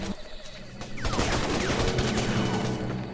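Dense gunfire erupts in the PC shooter Raven Squad, a sustained loud fusillade of overlapping shots that builds after a brief quieter start and continues without a break.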